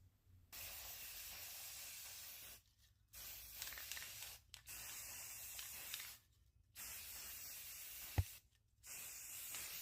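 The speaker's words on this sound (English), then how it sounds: "I took them outside to give them a nice coat of this spray paint" Spray paint hisses from an aerosol can onto craft pieces outdoors in about five separate bursts, each a few seconds long with short pauses between them, close and fairly loud, with a faint click near the end.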